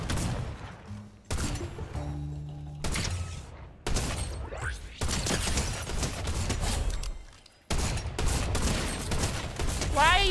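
Rapid bursts of Fortnite gunfire crackle loudly in repeated volleys separated by brief gaps, dense and close, with the player's voice occasionally mixed in.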